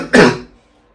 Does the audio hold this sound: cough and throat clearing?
yes